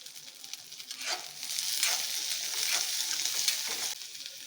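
Onion and curry leaves fry for bonda soup in a loud, close sizzle. Scraping stir strokes swell and fade, and no one speaks.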